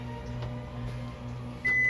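A steady microwave hum runs throughout while hot dogs cook, then a sustained electronic beep sounds near the end as the oven finishes.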